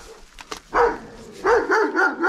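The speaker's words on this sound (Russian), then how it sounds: "а ну не гавкай, соседская собака" A neighbour's dog barking at a yard near a shed, a few sharp distant barks followed by a run of louder repeated barks in quick succession, fairly close and aggressive, with no talk over them.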